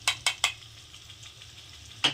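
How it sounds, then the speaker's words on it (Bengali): Grated carrot frying in ghee in a pan, with a soft sizzle under three quick scraping stirs of a utensil at the start and another near the end. "ঘি দিয়ে দিয়েছি, এই গাজরটা দিয়ে দিয়েছি। এবার গাজরটাকে আমি একটু ভাজা করে নেব।"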